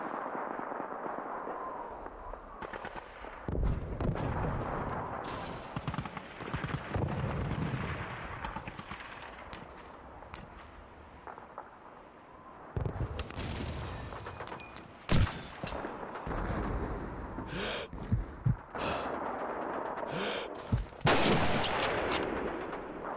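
Sniper rifle reports and scattered gunfire echo through a City Hall battle in the 2005 Soviet campaign of Call of Duty 2, dense rumbling combat punctuated by loud, sudden cracks over a steady din of battle.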